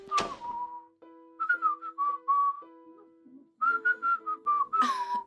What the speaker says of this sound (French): Ok, pourquoi est-ce que tu sifflotes?